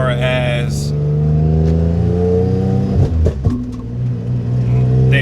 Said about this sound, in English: the exhaust leak. You can probably hear it ticking.